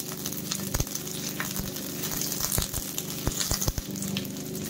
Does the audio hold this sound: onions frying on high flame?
yes